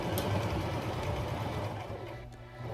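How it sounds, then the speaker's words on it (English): Sewing machine stitching a fabric seam on a drawstring backpack, producing a quiet, steady mechanical whir with fine rapid ticking that dips briefly near the end. "continue to sew all the way around until you get to the other red pin on the other side"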